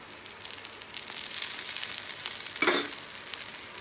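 A masala karam dosa roasts on a hot pan, giving a steady close sizzle with a brief louder crackle burst near the end, no voices.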